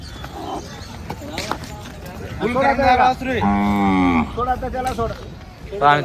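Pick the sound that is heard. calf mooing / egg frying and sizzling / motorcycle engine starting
calf mooing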